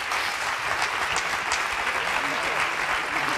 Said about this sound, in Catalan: Podeu aplaudir, sobretot